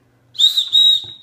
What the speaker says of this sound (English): It comes with a emergency whistle, and